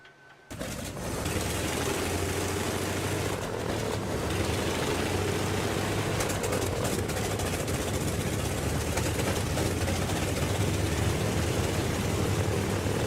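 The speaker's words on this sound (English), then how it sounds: "we are in the Grumman C-1A Trader COD aircraft on board the USS Yorktown CV-10" A Grumman C-1A Trader carrier delivery aircraft's engines start up in the FSX flight simulator aboard the USS Yorktown, switching from near silence to a loud, steady droning hum with a low propeller tone that holds unchanged.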